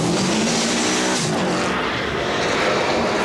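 Rally car screaming along at speed in the 1993 Rally Australia, driven by Kankkunen on the final stage, a loud continuous engine roar that holds steady from start to end.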